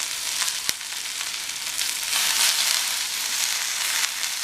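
Chopped vegetables for a drumstick-leaf soup sauté in a hot pan, giving a steady close hiss and sizzle that swells slightly midway, with one faint click of stirring and no talking.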